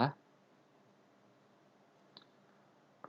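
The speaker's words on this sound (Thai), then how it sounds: "คลิกขวา" A computer mouse being right-clicked: a few faint, crisp, isolated clicks spaced a couple of seconds apart against a quiet background.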